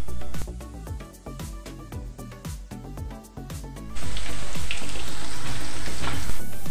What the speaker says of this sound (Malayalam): ഞാനിവിടെ കുറച്ച് എണ്ണ ഒഴിച്ചിട്ടാണ് സോയ വറുത്തെടുക്കുന്നത്